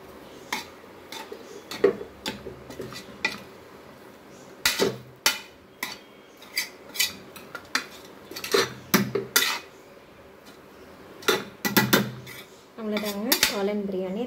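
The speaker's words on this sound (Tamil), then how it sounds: "எடுத்ததுக்கப்புறம் ஃபுல்லாக இதை நல்லா கிளறி விட்டுக்கோங்க." Mushroom biryani is stirred in a metal pot, with a spoon clinking and scraping against the sides in irregular bursts of clatter, close and fairly loud, with brief pauses between strokes.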